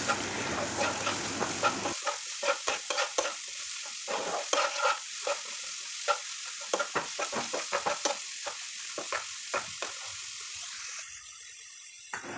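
Chopped carrots and onion sautéing in a pan for Kerala-style rava upma, with a steady sizzle and repeated close scrapes and clatters of a spoon stirring throughout, no talking.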